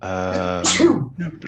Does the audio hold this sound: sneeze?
yes